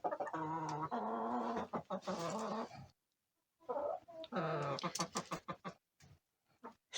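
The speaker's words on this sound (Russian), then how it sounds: "А здесь курочки." Chickens clucking in short, irregular bursts close by, mixed with soft background chatter and a brief quiet gap midway.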